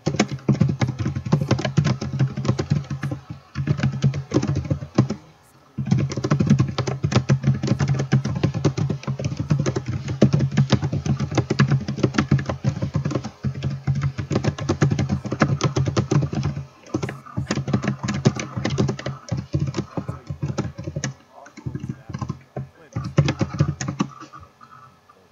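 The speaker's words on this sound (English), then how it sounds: "Sorry if you heard that typing" Someone types fast on a computer keyboard, a dense run of close clicking keystrokes that keeps going for about twenty-five seconds, broken by a few short pauses.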